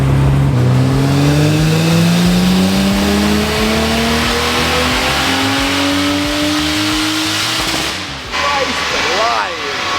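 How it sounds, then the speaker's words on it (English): An abandoned Nissan Skyline, restored after 15 years, revs loud and close on a dyno, engine pitch climbing steadily through a power run with crackling pops, then dropping off and briefly revving again near the end. "I think this is our first power run that's about to go down."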